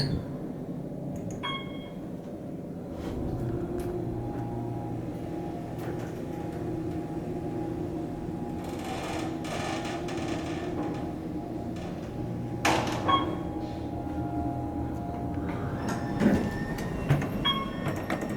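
An Otis Series 2 hydraulic elevator at the Loews Portofino Bay Resort convention center going up, a steady low mechanical hum with occasional clunks and rattles throughout the ride.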